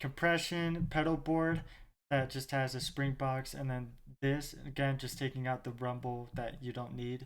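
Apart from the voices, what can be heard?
None of the usual background noises is heard.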